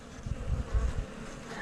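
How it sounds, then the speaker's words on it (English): Bees hum steadily at an open hive during an inspection, a low continuous buzz with a few louder swells close by, with no voices. "I got these bees right here"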